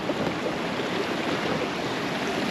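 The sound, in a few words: river water flowing strongly at Velliyur check dam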